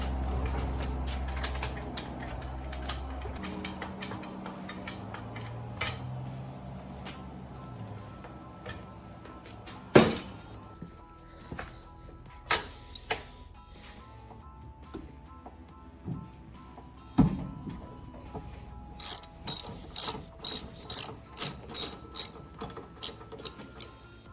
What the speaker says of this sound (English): Gotta jack it up